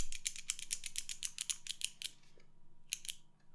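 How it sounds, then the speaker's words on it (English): A pen clicked rapidly to push out lead: a quick run of about a dozen sharp, close clicks, then a pause and a short second burst of three clicks, with no talking. "can you hear that clicking? My pen, I'm getting some lead out."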